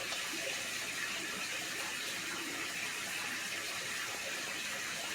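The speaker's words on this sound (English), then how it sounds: "I can hear it going down through the watering system." Steady rushing water drains through a garden watering system, flowing and gurgling continuously, a constant even wash of sound with no voices.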